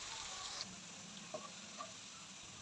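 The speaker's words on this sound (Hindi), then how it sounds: "इसको जस्ट हल्का सा फ्राई करेंगे हम" Chopped garlic and ginger frying lightly in oil in a kadhai, a quiet even sizzle with a few small pops and a stir clink, no voices.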